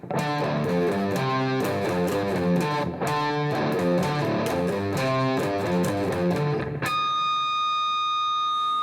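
Distorted electric guitar riff, dense chugging chords throughout, ending on a ringing high natural harmonic that sustains alone for the last two seconds; loud and close, no voices.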